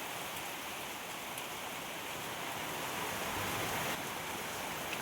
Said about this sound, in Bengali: আর বাইরে দেখো কি জোর বৃষ্টি হচ্ছে